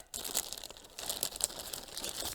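Close, crisp crinkling of a thin plastic bag, a burst of rustles and crackles lasting a couple of seconds with no voices.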